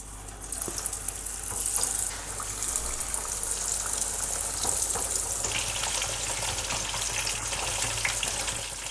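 Chicken deep-fries in plenty of hot oil for a kanthari chilli honey-glazed dish, producing a steady, close, hissing sizzle that runs unbroken for several seconds with no voices.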